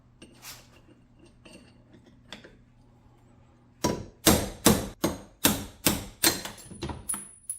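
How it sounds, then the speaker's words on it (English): After some quiet shuffling, a hammer strikes a metal punch about nine times in a steady rhythm, each blow sharp, ringing and close. "different punch, different weight hammer, different type of hammer"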